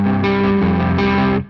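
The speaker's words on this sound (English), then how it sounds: "so the sound gets a bit more distorted." Loud, heavily distorted electric guitar chords, picked aggressively and ringing out in a short sustained phrase, with a chord change partway through before cutting off.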